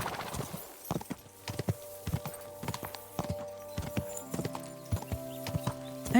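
Hooves of a horse clopping along in the video game Kingdom Come Deliverance II, a steady series of crisp close hoof strikes over soft ambient game music.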